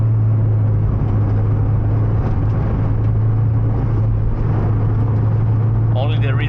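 A Mitsubishi Evolution V on a mountain touge road produces a constant, loud, close engine and road drone with a strong low hum from inside the cabin, while someone talks over it throughout.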